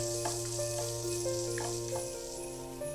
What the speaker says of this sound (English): Begin by frying 200 grams of chopped smoky pancetta.